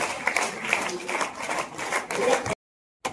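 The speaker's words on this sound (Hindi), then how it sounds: "एक बार जोरदार ताली" Audience clapping at a motivational talk in an indoor hall, a dense burst of applause lasting a couple of seconds before cutting off abruptly.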